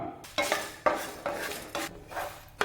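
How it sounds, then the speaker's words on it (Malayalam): Black pepper, cumin, chana dal, dried red chillies and curry leaves are dry-roasted in a pan, with a spatula stirring and scraping in repeated close strokes and a faint rattle of the spices between strokes. "അര ടീസ്പൂൺ കുരുമുളക് അര ടീസ്പൂൺ നല്ല ജീരകം ഒരു ടീസ്പൂൺ കടലപ്പരിപ്പ് നാല് വറ്റൽമുളക് ഒരല്പം കറിവേപ്പില ഇത്രയും ചേർത്ത് നല്ലതുപോലെ ഒന്ന് വറുത്തെടുക്കാം"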